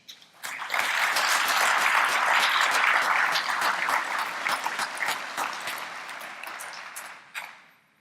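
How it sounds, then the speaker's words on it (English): A conference audience at a transit industry general session gives a sustained round of applause, swelling quickly, holding steady for several seconds and then tapering off, heard from within a large hall. "Let's give all these systems and many others here today a big round of applause"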